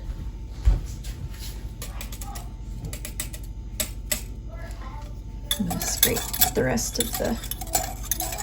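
Leftover bulgogi sauce and sugar being scraped from a bowl with a utensil, a run of close, rapid clinks and grating scrapes that grows busier and louder toward the end, with faint voice in the background.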